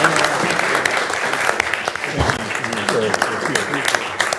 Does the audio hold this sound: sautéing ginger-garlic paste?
no